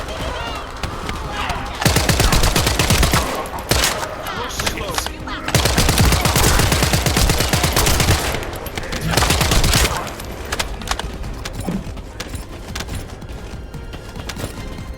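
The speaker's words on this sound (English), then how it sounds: "Who is shooting at me?" Bursts of rapid automatic gunfire in the sci-fi shooter The First Descendant, loud and dense in several volleys separated by quieter stretches of background battle noise.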